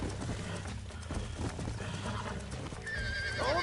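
A horse in the Red Dead Redemption video game neighs and its hooves clip-clop steadily over a busy game soundscape, with a shrill whinny rising near the end.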